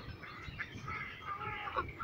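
Multicoloured geese on a pond in England, a few soft honks and calls over a low murmuring background, faint and somewhat distant.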